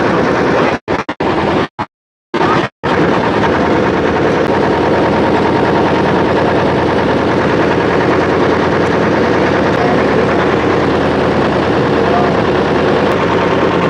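A ferry boat's engine runs on a river crossing at the Kumarpur ferry ghat, a loud, close, steady mechanical drone that continues throughout after a few brief cuts near the start.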